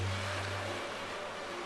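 Rough sea waves surge against coastal rocks in a brief, steady, close wash of broadband surf with a faint low hum beneath and no voices.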